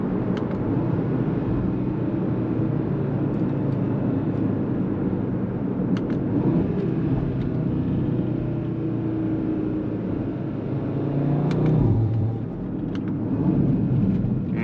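Audi RS3 8V2 with a Daza engine and RS exhaust driving fast, a steady loud rumble of engine and road noise heard from inside the car that swells briefly near the end.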